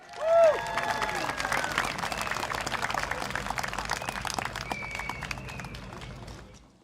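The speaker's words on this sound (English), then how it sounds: "Can we give a round of applause for Jufri from Sembawang GRC," Outdoor election rally crowd at Choa Chu Kang Stadium applauding a speaker as he takes the stage, a dense continuous roar of clapping with cheering and scattered voices, whistle-like tones and shouts rising above it.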